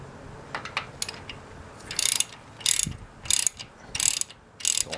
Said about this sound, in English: So I'm going to do the rest with the wrench, 22 deep well I got here.